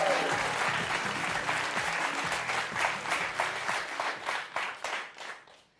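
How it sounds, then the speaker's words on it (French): A French game-show studio audience bursts into loud, sustained applause, with some cheering, that gradually thins out and fades toward the end. "merci d'applaudir Thierry Beccaro"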